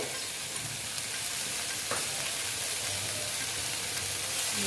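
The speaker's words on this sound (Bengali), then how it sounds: "আবার আমি ভালো মতো ভেজে নিচ্ছি" Boal fish jhal sizzles steadily in a hot pan after salt goes in, a constant close frying hiss with a faint stirring scrape near the middle and no voices.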